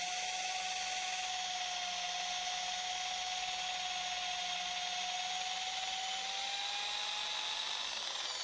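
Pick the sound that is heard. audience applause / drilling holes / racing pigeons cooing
drilling holes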